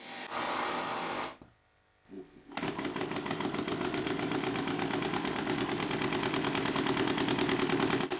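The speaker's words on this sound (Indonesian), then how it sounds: "Dengan mesin sekarang berputar pada 588 rpm dibandingkan sebelumnya 326 rpm" Stirling engine mounted on a bicycle spinning at 588 rpm, a steady rapid mechanical clatter with a dense even rhythm, loud and close, following a brief quieter gap near the start.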